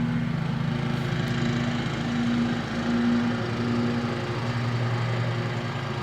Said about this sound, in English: We are officially in lawnmower season.